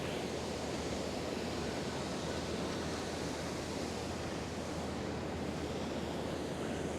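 A constant, even rush of flowing water fills the scene, broadband and steady, with no pauses or voices.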